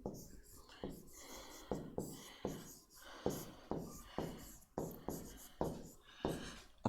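Chalk or marker strokes on a board during a chemistry lecture, a regular series of sharp scraping strokes close by, with the lecturer talking underneath.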